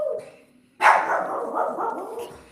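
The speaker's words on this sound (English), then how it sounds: "I've got the dog to deal with." A dog lets out one loud, close bark that trails into a drawn-out whining yowl lasting about two seconds indoors, with a brief murmur just before it.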